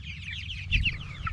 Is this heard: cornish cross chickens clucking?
yes